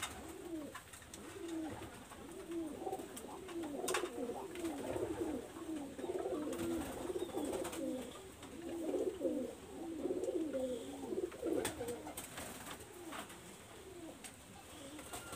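A female red-eyed pigeon coos in repeated low, rolling phrases, soft and steady across the clip with faint background noise.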